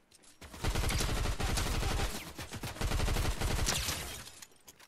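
Sustained automatic gunfire in Fortnite, a fast rhythmic stream of close, loud shots in two long bursts separated by a short pause, with no voice over it.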